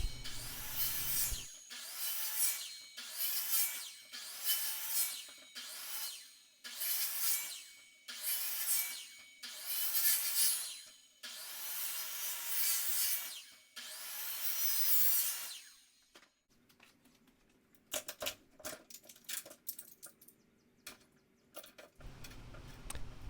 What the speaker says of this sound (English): breaking out the remaining bits with a hammer or chisel and then chiseling the peaks and valleys so that you have a flat surface in your notch